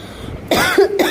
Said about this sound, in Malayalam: ചുമ വന്നു.